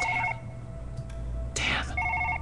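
A telephone rings in Surgeon Simulator 2013 with short trilling electronic bursts at the start and end. A brief rustling clatter sounds between them.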